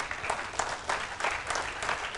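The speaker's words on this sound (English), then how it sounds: "When my hand is at this level, you need to give a big clap." Workshop audience clapping loudly on cue, a brisk sequence of dense group claps coming in pulsing surges roughly every third of a second.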